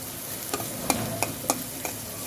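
Gourd and pumpkin peels cooking in oil with a little water, with a soft sizzle and several spaced scrapes of a spatula stirring the pan.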